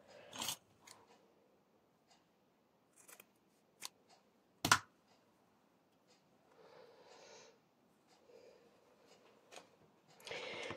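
Scissors snip through paper or lace pieces for a shabby-style scrapbooking tag, a few sharp separate cuts with quiet rustling and handling between them, close and fairly soft.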